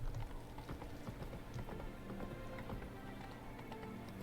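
Roach, a horse in The Witcher, galloping with a steady rhythmic clip-clop of hooves on ground, moderately close, continuous, over a faint ambient bed.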